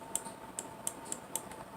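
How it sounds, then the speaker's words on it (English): Lo-fi hip hop percussion built from a wood knock and the snip of scissors closing, five crisp, light clicks in a loose beat over a faint, quiet background. "So I added like a wood sound in there, and then I added the sound of scissors closing."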